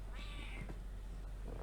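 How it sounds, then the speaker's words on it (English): A pet house cat, a male mouse-catching kitty, gives one short, clear meow near the listener, then falls quiet against a low steady room hum, with no talking. "My mouse catcher kitty cat."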